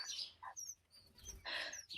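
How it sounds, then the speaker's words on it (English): A baby song sparrow in care makes a few short, faint chirps and high peeps, broken by brief pauses, close by and with no other sounds around it. "This is a baby song sparrow currently in care."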